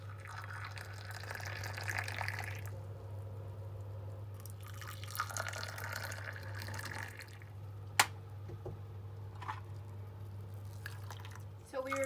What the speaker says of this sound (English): Now we just pour it back and forth from 2 cups back to the kettle.